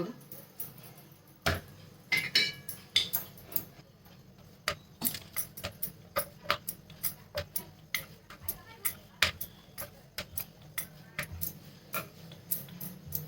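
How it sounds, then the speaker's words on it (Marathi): Wheat dough chapati is rolled out with a rolling pin on a board, making a series of sharp wooden knocks and taps in an irregular rhythm, with someone talking throughout. "चपाती मोठी लाटून घेते मोठी चपाती लाटून घ्यायचा का पोळपाटा"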